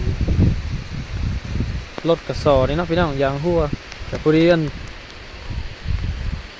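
Heavy rain hisses steadily and broadly throughout a road trip, forming a constant wash beneath a person talking in Thai.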